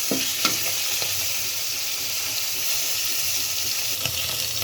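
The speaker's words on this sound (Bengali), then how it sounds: "উলট পালট করে দিচ্ছি এই পুঁটিটি" Small puti fish frying in oil in a pan while being turned over, a steady close sizzle with a few soft scraping knocks of the utensil.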